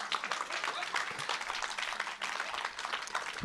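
An audience applauds at a French talk event, with dense, continuous clapping held at moderate level for a few seconds, overlapping a voice speaking.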